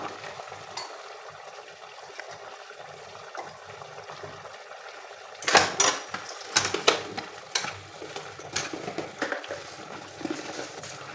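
Prawns for a prawn malai curry tipped into a pan of coconut milk sauce, a soft simmering bubble turning into clattering spoon stirring and scraping with light sizzling, close and without speech.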